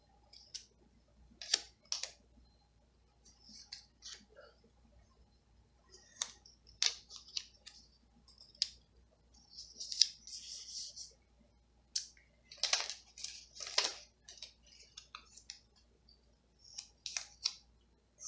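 Scissors make small crisp snips trimming the sides of a planner sticker, an irregular series of quiet close clicks scattered across a near-silent background.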